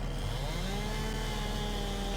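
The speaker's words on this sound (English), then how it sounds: "get a JCB chainsaw" Steady droning whine of a JCB chainsaw cutting into a tree trunk in the farming game Farming Simulator 22, a continuous buzzing engine tone held at even loudness throughout with no talking.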